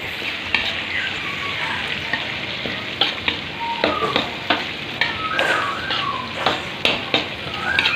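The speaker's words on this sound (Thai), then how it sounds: "หลังจาก ใส่เครื่องปรุงครบเรียบร้อยก็เติมใบกระเพราลงไปคนให้มันเข้ากันครับ" Holy basil is stirred into squid and shrimp stir-frying in a hot pan: a steady, close sizzle with repeated scraping and clinking spatula strokes against the pan, and no talking.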